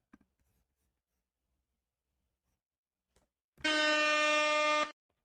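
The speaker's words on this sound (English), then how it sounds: "I always hate that the air horn starts off like that" An air horn sound effect played during a live Yankees versus Orioles baseball stream, one long, loud, steady blast of about a second and a quarter, alone after near silence.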